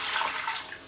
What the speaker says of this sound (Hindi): अब मैं इसमें 1 किलो पानी डालूँगी।